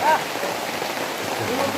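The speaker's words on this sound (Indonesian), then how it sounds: "Hujan turun." Steady rain falling along a mountain trail on Gunung Slamet, a dense even hiss of drops close around, with faint voices under it.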